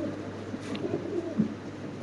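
A pair of Golden Sweet pigeons coos softly in a few low, rounded calls, heard close and alone with no talking.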